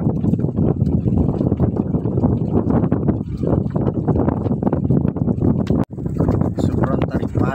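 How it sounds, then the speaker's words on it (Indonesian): Strong wind buffets the microphone on a fishing boat at a river mouth, a loud continuous roar with low rumble and water noise throughout, briefly cutting out once near the end. "Angin kencang jadi balik dari laut."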